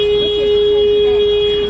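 A loud, close car horn sounds in traffic in China as one steady, unbroken blast lasting under two seconds.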